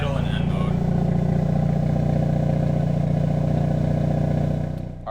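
Idling Hyundai Elantra N fitted with an SXTH midpipe and downpipe, a steady close-up low rumble holding even throughout, with no voices over it.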